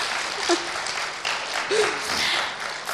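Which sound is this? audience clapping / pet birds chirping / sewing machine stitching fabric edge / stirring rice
audience clapping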